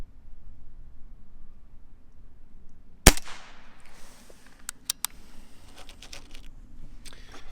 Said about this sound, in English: All right, let's get to shooting here, though.